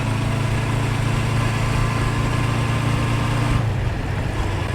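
A 1976 Honda CB550 motorcycle engine runs steadily and loud up close, a continuous droning hum that shifts pitch near the end as it changes gear.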